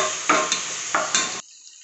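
Spices fry and are stirred in a pan for mutton gravy, giving a close, steady sizzle with a few scraping strokes before it cuts off abruptly.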